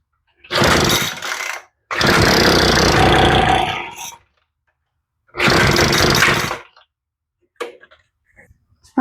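A Troy-Bilt leaf blower's small two-stroke engine is pull-started repeatedly, with three loud bursts of cranking and brief sputtering, separated by silences and followed by a few faint clicks and knocks.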